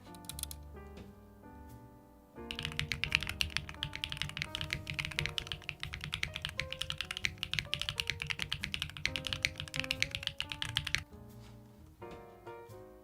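Rapid typing on a custom mechanical keyboard built with Geon Raptor HE parts, a dense run of close, crisp key clacks over background music, starting and stopping abruptly.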